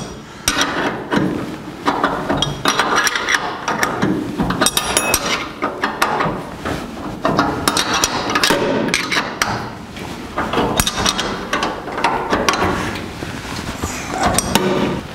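Nuts on the brake pedal bolts of a 1949 Chevrolet gasser are tightened with a wrench while a vice grip holds the bolt heads, giving loud, close, continuous metallic clanks, ratcheting and knocking without speech.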